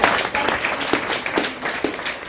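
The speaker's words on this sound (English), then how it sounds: "I'm going to ask you to give a round of applause for Brian" Brief burst of audience clapping at a small reading event, a modest group applauding with a few distinct louder claps standing out.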